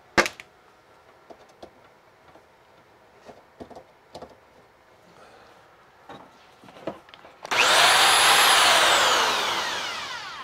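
A corded Senco DS300 screw gun gives scattered handling clicks and knocks, then whines up loudly at about seven and a half seconds and runs steadily, its pitch slowly sliding down.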